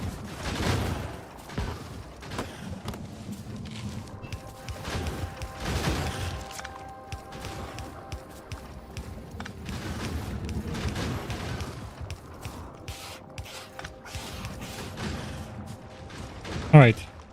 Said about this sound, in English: Just the massive gunfire array should stop.